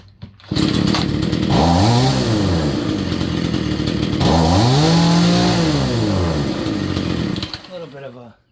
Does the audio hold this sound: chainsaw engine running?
yes